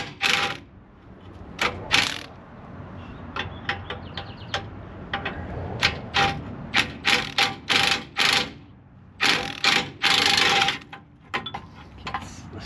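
Rapid bursts of ratchet clicking from a hand ratchet backing out bumper bolts on a 2005 Ford F150, arriving in short irregular runs with pauses between, close and fairly loud.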